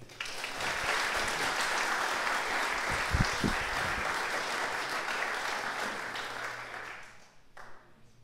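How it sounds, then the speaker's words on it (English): An audience at a London classical chamber music concert applauds the performers in a steady, full round of clapping that holds for several seconds, then thins and fades near the end. "Please, a round of applause for Dominic and Duncan."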